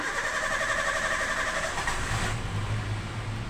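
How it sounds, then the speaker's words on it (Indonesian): A Toyota Avanza/Xenia with a long-cranking starting fault turns over on the starter with a steady whirring crank, then settles into a low, even rumble. "Ini kita mau coba starter dulu untuk mesinnya."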